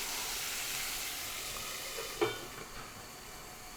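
Ivy gourd (dondakaya) frying in a pan with curry leaves makes a soft, steady sizzle with faint hiss, broken by a few light clinks of stirring near the middle.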